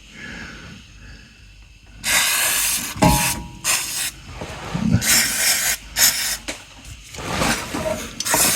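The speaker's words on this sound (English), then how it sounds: "rinse off any mess we made with brake cleaner." Brake cleaner sprayed from an aerosol can to rinse grime off a Stiga Primo engine after a valve cover gasket replacement, heard as repeated loud hissing bursts of uneven length with short pauses between them.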